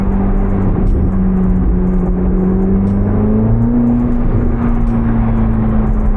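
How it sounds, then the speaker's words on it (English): A 1000 hp Corvette ZR1 with a turbo pulls hard, its loud engine tone climbing steadily and droning throughout, close and continuous with faint high whistles over the roar. "I don't know if the camera's picking up that turbo or not."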